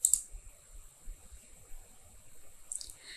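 A computer mouse clicks twice, once right at the start and again near the end, short, quiet taps with near silence between them.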